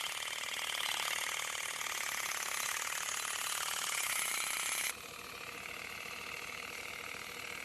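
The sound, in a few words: pneumatic olive harvester shaking tree branches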